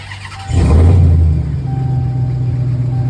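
A 2022 RAM TRX pickup truck's engine cranks and fires after half a second of quiet, surging into a loud, deep roar before settling into a steady rumbling idle, heard close by.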